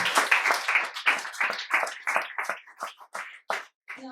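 An audience at an evening data conference applauds in a short burst of loose, separate claps that come in uneven waves and trail off, with a brief voice at the end.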